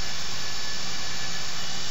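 A Grumman A-6E Intruder's jet engine in a flight simulator gives a steady, loud, broadband roar with a high whine, unbroken throughout and heard alone.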